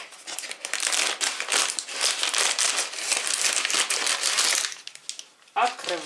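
A snack bag of Delicados cheese nachos being opened, with loud, close plastic crinkling and rustling throughout and a brief pause near the end.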